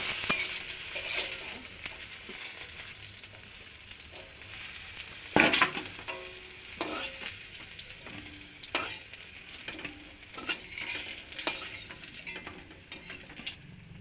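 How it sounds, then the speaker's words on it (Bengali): Pumpkin pieces frying in hot oil in a pan, a steady close sizzle with stirring scrapes and occasional clinks of a utensil, one sharper clatter midway. "এর মধ্যে কুমড়োগুলো দিয়ে দিই ওই তেলে। কুমড়োগুলো ওরকম লাল লাল ভেজে নেব।"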